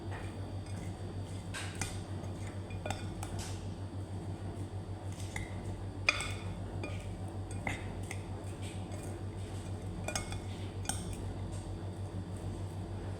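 Spoon clinking and scraping in a bowl while ingredients are mixed for a Ramadan dish, a steady run of light clicks and taps over a constant low hum, with no voices.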